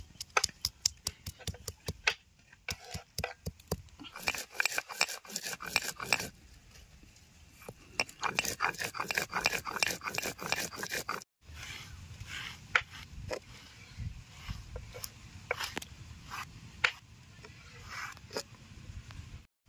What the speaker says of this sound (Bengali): এবার লঙ্কাগুলো বেটে নেবো।